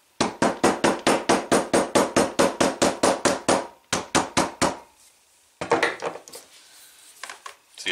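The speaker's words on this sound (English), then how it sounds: "We'll set some of this with a hammer." A hammer sets a glued leather welt on a fold-over sheath bonded with contact cement. About seventeen quick, even, close strikes sound, then a short pause, a few more taps, and a scattered final handful.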